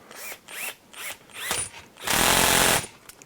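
Ratcheting and mechanical clicking while a part is tightened on an HPI Baja 5SC SS RC car build, several short bursts followed by a longer, louder continuous grinding rattle, close and without talk.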